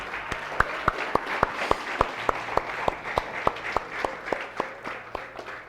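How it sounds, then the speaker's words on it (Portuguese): Church congregation applauding steadily, a dense wash of clapping with sharp hand claps standing out throughout, moderately loud and without speech. "Vamos aplaudir o Senhor por isso?"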